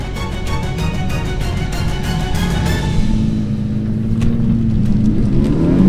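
A car engine revs hard while reversing in the Mojave Desert, with a loud, rough roar, pulsing bursts of throttle and then a rising whir as the revs climb again.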